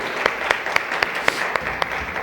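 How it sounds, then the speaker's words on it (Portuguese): A church congregation applauds during a service, sparse clapping with a few sharp, evenly spaced claps standing out above a softer background of hands. "Você pode aplaudir ao Senhor mais uma vez?"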